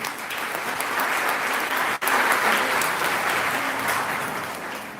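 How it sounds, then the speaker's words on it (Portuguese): Steady, dense clapping from a large congregation at a Catholic church service, loud and sustained for the whole stretch, with a brief dip before it continues and slowly fades slightly. "Vamos aplaudir."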